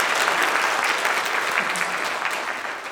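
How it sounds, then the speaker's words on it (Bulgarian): Audience at an awards ceremony applauds, a dense steady burst of clapping from a large indoor crowd that gradually tapers off. "Още веднъж аплодисменти за Моисей!"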